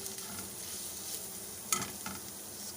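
Shredded boiled chicken sautés in a pan with a soft, steady sizzle, punctuated by a couple of brief utensil clinks and scrapes toward the end; no voices.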